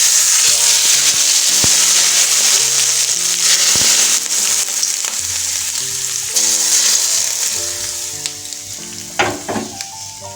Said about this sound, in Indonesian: Setelah itu kita masukin minyak goreng panasnya ya Bun,